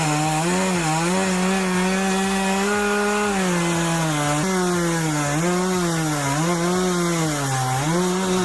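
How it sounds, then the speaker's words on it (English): Chainsaw slicing through timber during stump removal, a loud, close engine whine that rises and dips repeatedly as the chain bites into the wood, continuous throughout with no voices. "the guide provides a stable platform for the chainsaw to slice through timber effectively"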